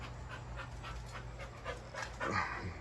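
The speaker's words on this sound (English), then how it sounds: "This dog keep getting annoying." A dog on a grandmother's back patio pants in quick, even, close breaths over the low steady drone of a Craftmade ceiling fan, ending in a slightly louder burst.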